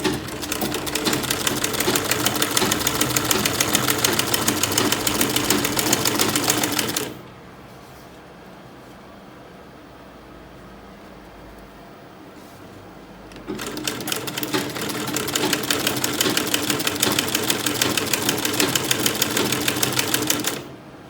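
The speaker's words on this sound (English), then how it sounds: "So I'll be sewing all the way down to 1/2 inch before our hem line." A sewing machine stitches an under bust corset in two long loud bursts of rapid, even mechanical chatter, separated by a quieter pause of several seconds, close to the microphone.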